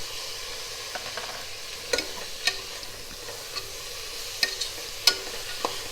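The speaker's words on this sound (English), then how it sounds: "Now I'll add the tomatoes. I'll add the green peas." Tomatoes and green peas going into a pan of frying chicken biryani: a soft, steady sizzle with scattered sharp spoon clinks and stirring taps, close and fairly quiet.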